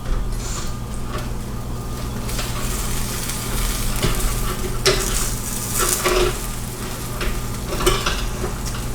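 Steaks flipped in a pan under an oven broiler give a steady, close sizzle and fry crackle, with scattered clinks of utensils and metal pan scrapes throughout, no talking.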